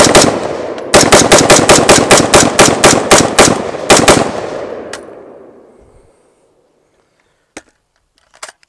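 A Huldra MK IV AR15 rifle, hot and smoking, fires steel case ammunition in a rapid string of about sixteen loud, sharp shots in two close bursts. The last shot rings out and fades to silence, followed by a couple of faint clicks.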